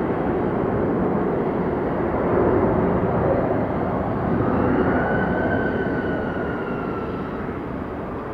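A Boeing 767 widebody jet turns and starts its takeoff at Atlanta Hartsfield airport. Its engine roar is loud, steady and broad, and a whine rises faintly within it toward the end.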